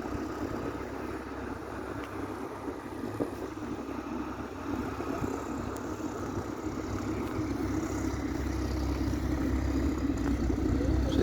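An aircraft engine starting up, its steady drone building gradually louder over several seconds, a low continuous rumble with wind noise and no talking.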